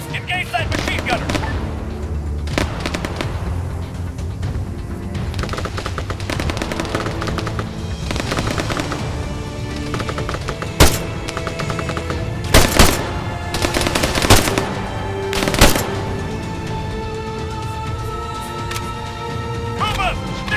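Bursts of machine gun fire in the military shooter ArmA 3, heard mostly as continuous distant battle noise with a few louder, sharper volleys standing out, while soldiers shout orders over the combat.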